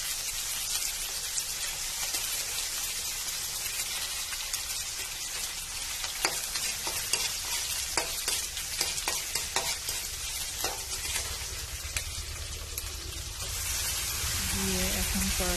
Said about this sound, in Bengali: তেলে কাঁচামরিচ পেঁয়াজ ভেজে নেব।